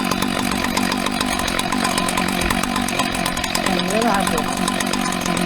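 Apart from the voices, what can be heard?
Husqvarna 2100cd chainsaw running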